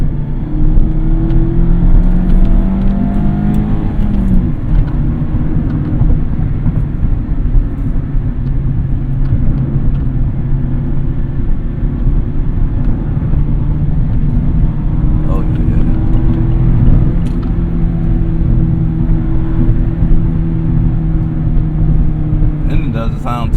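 Engine of a 2020 Mazda Miata RF MX-5 heard from the cabin while driving, a loud continuous drone with gentle rises and falls in pitch under intermittent talking.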